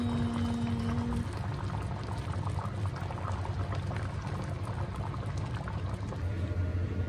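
A pot of Japanese pork curry simmers close by, thick sauce bubbling and popping in a steady dense burble, moderately quiet and continuous, with no voices.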